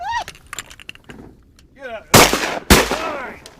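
Two loud, close shotgun blasts ring out about half a second apart during a duck hunt in Missouri, each with a sharp crack and decaying tail, following brief talk and duck calls.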